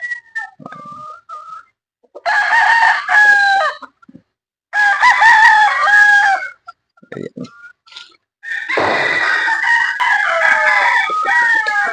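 Roosters crowing at a small gamefowl farm: loud, close, drawn-out cock-a-doodle-doo calls come one after another, with shorter clucks and crows from other birds in the brief gaps between them.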